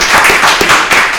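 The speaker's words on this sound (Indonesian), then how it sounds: "Penontonnya kurang sigap di dalam tepuk tangan." Loud, close applause from an audience at a student council event at SMA Negeri 2 Baubau, a brief burst of many hands clapping together.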